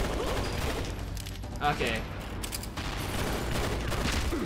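Gunfire from the video game Red Steel, a dense continuous fusillade of shots filling the scene, with a brief spoken word over it.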